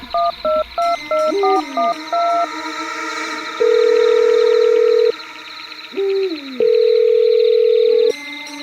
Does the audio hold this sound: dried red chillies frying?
no